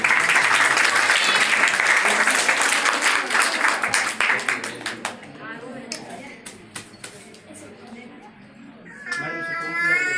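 Audience applause at an International Women's Day event in Bhattu Kalan, loud dense clapping from a crowd that thins into scattered claps and fades, with voices talking underneath and rising again at the end.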